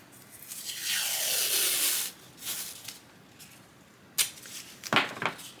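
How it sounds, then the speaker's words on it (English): Painter's tape pulls off a roll with a long, rasping tear and is pressed onto a child's shirt, followed by shorter strips ripping and soft patting, all close up with no talking. "I just tape it up."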